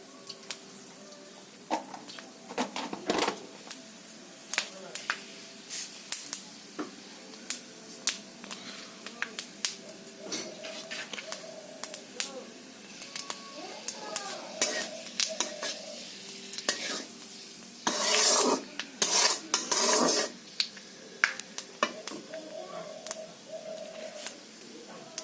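Whole spices tempering in hot oil in a wok make a light sizzle. Sharp crackles and pops go off intermittently, and one denser burst of spitting comes partway through. Utensils clink now and then.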